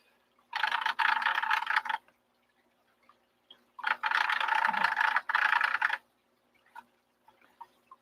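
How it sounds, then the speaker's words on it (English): Loose rattling from the impeller of an aquarium filter still spinning after removal, two sustained bursts of a second or so each, fairly close and alone, followed by a few faint scattered ticks. "that rattling noise you can hear is just the impeller in there still spinning"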